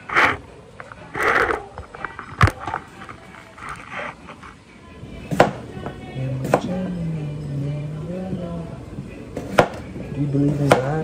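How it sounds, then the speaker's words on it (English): Several sharp knife chops through potatoes on a cutting board, spaced irregularly, with a faint voice humming or talking softly in the background. "Chopping these damn potatoes."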